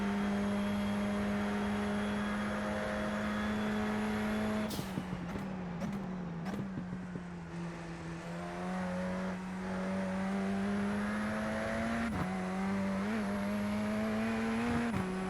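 Radical SR10 race car lapping Road Atlanta in a racing game, its engine a steady, high-pitched drone that dips and climbs through gear changes midway, running continuously with no voices.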